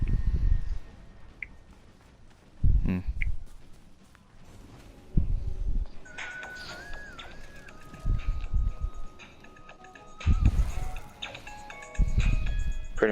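New wave synth music plays, with bright sustained synth lines and gliding leads over thumping low beats that come in short bursts, moderately loud with no talking.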